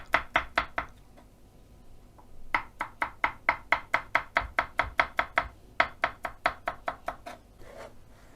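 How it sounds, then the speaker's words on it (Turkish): Crushed garlic cloves are finely chopped with a knife for an eggplant shepherd's salad (babaganoush). Close, crisp chops land in rapid, even bursts separated by brief pauses, with no talking. "Sarımsak ekleyelim. Şöyle patlatacağız. Ardından ince ince doğrayacağız."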